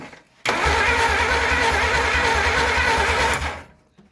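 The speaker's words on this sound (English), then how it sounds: "Fix to try to crank it again." A 1947 Plymouth Special engine, its valves recently unstuck, cranks loudly and steadily for about three seconds, a rapid rhythmic churning with no catch, then winds down and cuts out.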